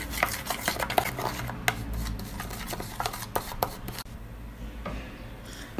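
Black clay face mask paste being stirred in a bowl, giving a steady run of soft wet scraping and tapping strokes up close, with no voices.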